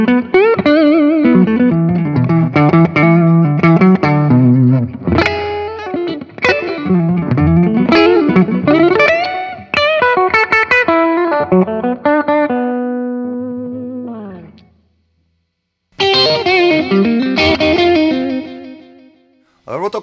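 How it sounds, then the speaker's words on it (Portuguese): Electric guitar through the neck humbucker of a Music Maker EA Pro pickup set, the selector in fifth position: a full, loud distorted run of fast notes and sustained bends, a short pause, then more phrases, with no voice. "Última posição, quinta posição, o humbucker do braço, cheio, do neck cheio"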